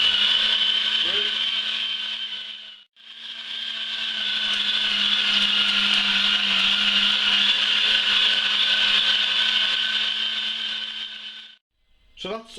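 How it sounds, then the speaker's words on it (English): A meat mincer with a coarse plate grinds offal and pork with a loud, steady motor whine. It runs for about ten seconds after a brief stop near the start, then cuts off at the end. "I'll just put this through the mincer."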